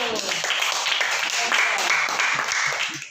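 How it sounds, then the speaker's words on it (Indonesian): A classroom applauds a student group, many hands clapping at once in a steady, moderately loud patter that runs a few seconds before tapering off, with voices mixed in. "Ya, tepuk tangan untuk kelompok 1"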